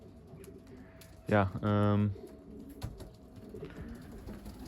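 Racing pigeons in a loft give a couple of loud, close cooing calls, one short and one drawn out, with softer rustling and a brief spoken word around them.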